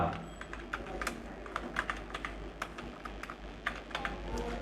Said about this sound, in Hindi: और मैं टैब बटन, कीबोर्ड में एक बटन होता है टैब जो कैप्स लॉक के ऊपर होता है, प्रेस कर दिया।